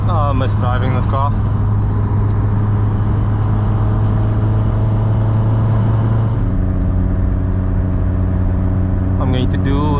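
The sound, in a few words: VW Golf Mk2 16V GTI engine during test drive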